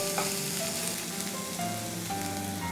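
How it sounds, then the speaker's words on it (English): Garlic and spring onions, greens and whites, sauté in olive oil in a non-stick pan, giving a steady close sizzle with a few light stirring knocks and no talking. "We'll add some spring onions, both greens and whites. And sauté it for 1 minute."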